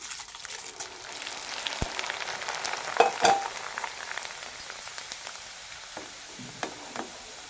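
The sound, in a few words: roasting corn flakes in a pan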